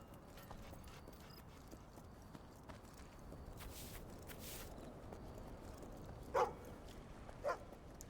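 A dog in the Fable II video game gives two short, sharp barks, close together near the end, over a very quiet ambient background with soft footstep-like taps.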